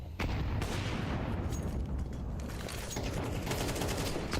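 Rapid gunfire during a competitive shooter video game match: dense, continuous volleys of overlapping shots with booming low end, loud and sustained for the whole stretch.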